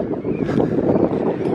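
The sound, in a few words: wind blowing into the microphone outdoors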